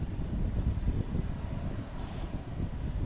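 A Delta Airbus A321neo takes off from Boston Logan Airport bound for San Diego, heard as a steady, heavy low-pitched jet engine roar from a distance with a little wind noise.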